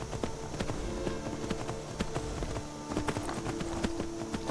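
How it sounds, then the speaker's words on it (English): A horse ridden across terrain in Skyrim gives a steady, rhythmic clip-clop of hooves that carries on throughout against a constant game ambience. "a lot of horse riding in this episode"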